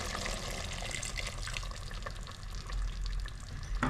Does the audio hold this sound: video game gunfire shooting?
no